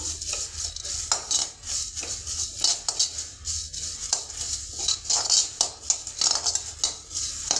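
Dried thuthuvalai leaves are dry-roasted in a pan, with a spoon clinking and scraping in an irregular stirring rhythm throughout.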